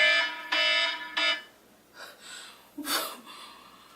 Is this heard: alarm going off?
yes